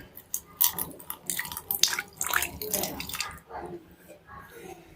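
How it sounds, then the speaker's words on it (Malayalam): Boiling water is poured into a bowl containing Amrutanjan balm, a splashing, trickling pour in uneven bursts close by, with a person talking over it. "കുറച്ച് തിളച്ച വെള്ളം ഞാൻ അതിലേക്ക് ഒഴിച്ചു കൊടുക്കുന്നുണ്ട് കേട്ടോ"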